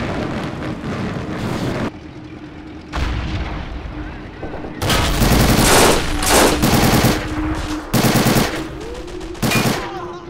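Heavy video game gunfire and artillery-like booms pound a Firefly tank in dense, loud bursts that stop and restart, with a voice faintly audible beneath the shooting.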